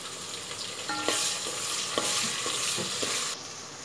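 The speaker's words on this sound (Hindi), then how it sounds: "देखिए हमने टमाटर डाल के अच्छे से उसको फ्राई किया है" Tomatoes frying in a pan, a brief steady hiss of sizzling oil with a few soft utensil taps, no voices.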